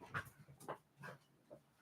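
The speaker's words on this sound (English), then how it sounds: "Oh, dogs." Dogs whimpering and panting indoors, several short soft whines and breathy pants in an irregular rhythm, fairly faint and close.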